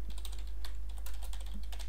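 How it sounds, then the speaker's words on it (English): A quick burst of computer keyboard typing as a URL is entered, with light, rapid key clicks close by over a low steady hum. "say if I type in a URL here"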